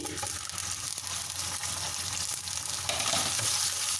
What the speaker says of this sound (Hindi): इसी ऑयल में मैं डायरेक्ट चिकन डालूँगी।